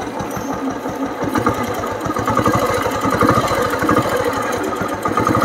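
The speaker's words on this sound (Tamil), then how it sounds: "இன்ஜினோட ரன்னிங் சவுண்டு, இன்ஜினில் என்ன சத்தம் இருக்குதுன்னு சொல்லி இதில் நீட்டாக கேட்கும் உங்களுக்கு." A 1989 Royal Enfield Bullet motorcycle engine runs close by at a steady idle, with an even, rapid thumping beat and no voices over it.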